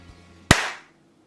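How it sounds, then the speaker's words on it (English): One sharp, close hand clap rings out alone in a quiet room before a guitar recording, with a short decaying tail. "what I like to do is clap"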